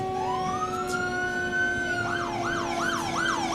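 Marshfield Police Department car siren at the start of the 2022 Main Street Holiday Parade, a loud wail that rises and holds, then switches into a rapid repeating yelp, with no talk over it.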